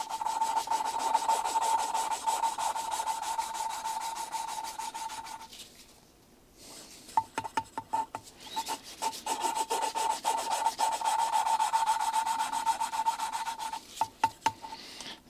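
Valves of a Volvo 66 engine being lapped with grinding paste, a steady gritty rubbing and grinding, close and moderately loud, with a short pause, then a few scraping strokes before the continuous grinding resumes.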